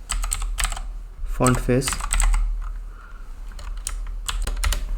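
Rapid keyboard typing on a computer while coding an HTML/CSS project, sharp clustered key clicks in bursts, close and fairly loud, with someone speaking briefly between them.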